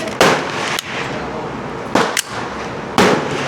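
Pistol shots ring out at an outdoor shooting range, three sharp loud cracks about a second apart, each followed by a brief echoing tail over steady background noise.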